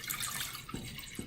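Fruit for an apple banana dessert rinsed under running water, a soft steady splash with a couple of faint drips, quiet and close.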